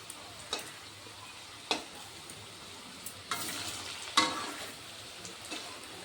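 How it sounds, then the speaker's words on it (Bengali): Potatoes frying in a pan until crispy, a faint steady sizzle broken by a few sharp scraping stirs, close by, with no talking. "একটু লাল করে ভাজতে হবে তাইলে মুচমুচে হবে"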